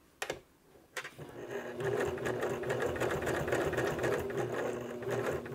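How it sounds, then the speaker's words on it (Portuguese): Domestic sewing machine stitching synthetic Montana fabric, with a couple of short clicks before the motor settles into a steady, close, rapid rhythmic whir that runs on continuously with no talking. "vou deixar aqui a minha peça na diagonal e vou vir com a costura até aqui"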